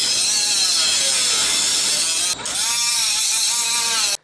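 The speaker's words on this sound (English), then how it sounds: "A little bit of grinder action, but she is all out." An angle grinder cuts off a car's sway bar end link with a loud, steady high-pitched whine. It dips briefly partway through, then resumes, and stops abruptly at the end.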